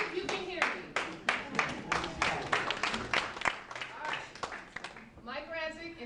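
An audience at a neighborhood watch meeting claps hands in a steady, rhythmic beat for several seconds in a room, with voices heard over the clapping and near the end.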